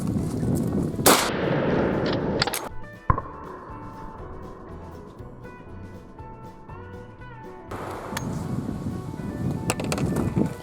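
Gunshots from a Rossi R92 lever-action rifle chambered in .357 Magnum, fired outdoors: a few sharp, loud cracks early on, followed by quieter stretches where birds coo and chirp in the background.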